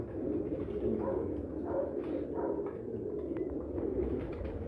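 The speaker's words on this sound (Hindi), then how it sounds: "एक और गोल्डन कबूतर हमारे सामने है" A golden pigeon cooing close by in repeated soft, low coos over a quiet background, with faint chirps from other birds.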